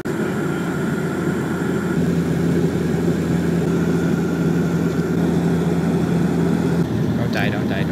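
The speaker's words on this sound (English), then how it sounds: "Small plane!" A small propeller plane in flight, heading over the Alberta prairies toward Nanaimo, makes a loud, constant droning engine roar heard from inside the cabin, with a voice speaking over it near the end.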